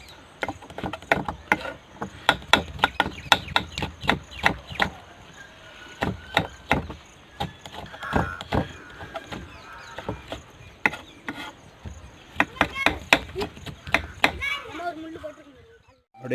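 Vegetables for a farmer-style fish curry are cut with a knife on a board, giving quick, rhythmic close chopping taps in bursts, with voices murmuring in the background.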